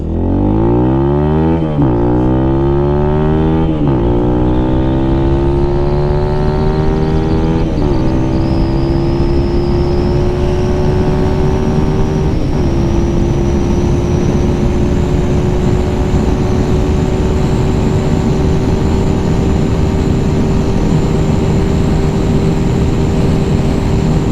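A Lifan KPM 200 motorcycle with a 16-tooth sprocket and new racing chain accelerates hard on a top-speed run, its engine whine climbing through several gear shifts, then holding a loud steady high drone with wind roar.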